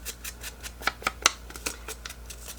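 Paper tears away in short, crisp rips and crackles during card crafting, close and fairly quiet, with a few sharper bursts mid-way.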